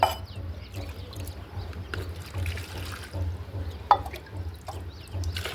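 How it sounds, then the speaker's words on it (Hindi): Water runs from a tap into a container outdoors, a faint, uneven trickling and splashing with intermittent louder spatters. "पहले पानी भर लेते हैं"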